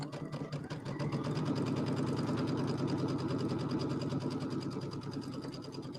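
A sewing machine stitches a quarter-inch seam around a fabric square for a bunny bench buddy, its rapid, even mechanical clatter running continuously and close throughout.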